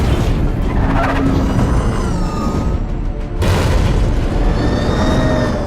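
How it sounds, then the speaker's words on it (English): Action scene with the Batpod motorcycle from The Dark Knight film: a loud, continuous mix of roaring engine, tire skids and heavy booms, with a sharp burst of impact noise near the middle. "Batman, played by Christian Bale, and the Batpod scene in the first of the Dark Knight movies."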